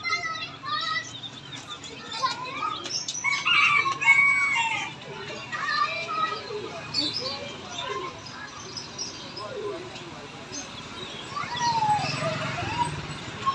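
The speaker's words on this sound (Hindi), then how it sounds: "इतने प्यारे चूजे हैं" Poultry at a bird market in Multan, with chicks chirping and chickens clucking amid a busy crowd, children's voices and nearby talk throughout.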